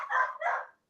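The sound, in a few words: dogs barking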